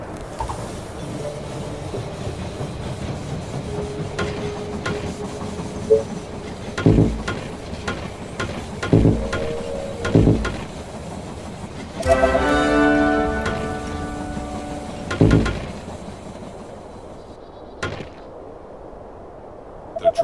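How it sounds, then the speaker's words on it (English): In the They Are Billions strategy game, a train pulls into the station with mechanical clanks, a rattling burst of rail noise and scattered clicks over a soft ambient bed, no voices. "The train has arrived at the station."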